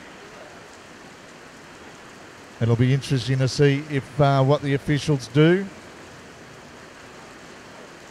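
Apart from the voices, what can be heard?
heavy rain at a supermoto race track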